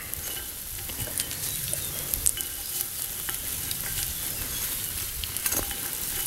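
Bacon grease sizzling and popping in a pan over a campfire outdoors, a steady crackling hiss with frequent sharp spits and pops, fairly close.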